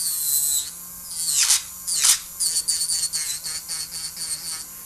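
A small electric nail drill used on gel nails whines at high pitch, its tone dipping and rising in short bursts as it presses and lifts, close up.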